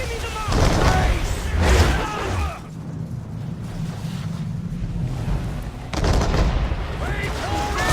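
Ship cannons firing in an Assassin's Creed 3 naval battle, heavy booming volleys with roaring, noisy bursts at the start and again near the end, separated by a lower rumbling lull, with shouting voices mixed in.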